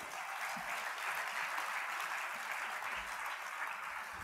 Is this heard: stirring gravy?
no